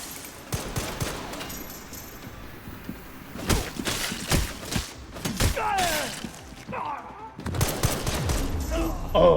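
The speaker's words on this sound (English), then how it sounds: "I'm not used to them being able to fire back at me." Human enemies shoot back in Resident Evil Requiem: scattered gunshots and short automatic bursts crack nearby, mixed with thuds and impacts, and a voice talks between the shots.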